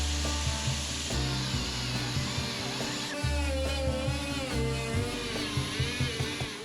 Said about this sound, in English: I've got my trusty die grinder here with a lot of sanding discs for it.